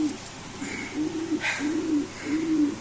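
A racing pigeon coos in a low, rolling rhythm, repeating its call about four times up close with small rustles between the coos and no voices.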